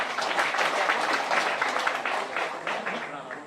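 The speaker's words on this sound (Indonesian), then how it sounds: "Tepuk tangan dulu." An outdoor crowd at a tree-planting event claps continuously and fairly loudly for a few seconds, a steady dense patter of many hands with no pauses.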